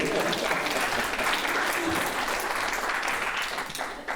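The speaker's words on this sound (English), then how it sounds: "you can clap to that" Audience applause at a Startup Grind Cape Town talk, a dense sustained wash of clapping filling the whole stretch, fading slightly near the end.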